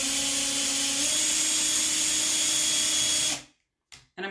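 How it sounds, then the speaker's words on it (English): A power drill bores a hole through watercolour paper, its loud steady whine running for about three seconds close up before cutting off abruptly, followed by a couple of brief faint knocks. "Okay, now I'm just going to drill a hole."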